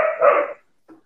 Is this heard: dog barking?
yes